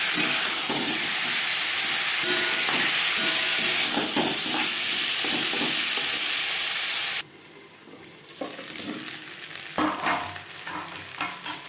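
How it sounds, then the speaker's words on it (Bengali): Potatoes with ginger and green chili paste being mixed in a hot pan, a loud steady sizzle and hiss of frying under scraping strokes, then the hiss drops away, leaving softer irregular stirring scrapes. "আলুর সাথে মশলা বেশ ভালো করে মিক্স করে দেবো"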